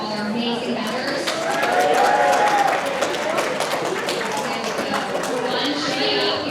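A crowd at a bridal expo in a community center applauds, with steady mixed clapping throughout, moderately loud and swelling slightly in the middle, while voices carry on underneath.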